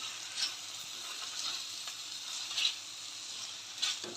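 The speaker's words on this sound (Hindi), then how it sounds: "और इसे अच्छे से मसाले में मिक्स करूंगी।" Cashew egg masala is stirred in a hot pan, giving a soft, continuous sizzle with faint scraping strokes from the spoon at a few moments.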